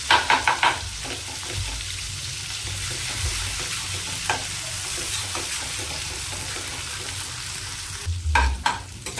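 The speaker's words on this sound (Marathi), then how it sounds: "आता जो मसाला केला होता ना राहिलेला तो आपल्याला थोडासा परतून घ्यायचा आहे या तेलावर" Leftover green chili masala paste sautéing lightly in oil for khar vangi (stuffed eggplant curry), giving a constant soft sizzle with spatula scrapes at the start and end.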